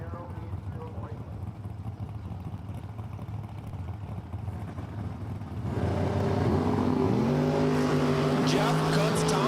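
Drag racing cars, one of them a Camaro in the right lane, at Empire Dragway: a steady engine drone gives way to loud engines revving and launching down the strip, with rising harmonic whine and a possible announcer voice.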